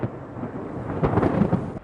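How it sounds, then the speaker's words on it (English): Thunder from a violent thunderstorm, a deep rolling rumble that swells and cracks louder partway through over a hiss of rain, with no voices. "very violent thunderstorms with a mixture of hot arid dry air and hot humid air"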